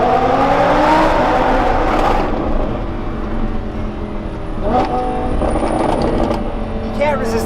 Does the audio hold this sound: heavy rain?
no